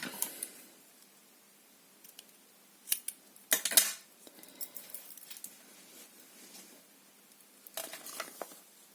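Scissors cutting a paper bag while making a mini album: quiet, sparse snips and crisp paper rustles spread across a calm tabletop scene, with a couple of sharper cuts standing out.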